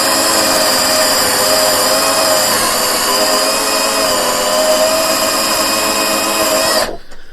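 Continuous high-pitched whine of a battery drill grinding against a stubborn screw on a crashed salvage Fiat 500, held at steady full speed for several seconds before abruptly stopping.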